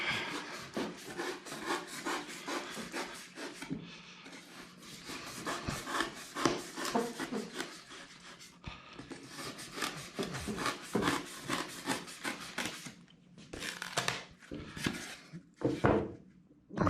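Steady back-and-forth rasping strokes of a tool being sharpened by hand, a rhythmic run of rubbing scrapes with short pauses between sets, close and fairly quiet, with no talking.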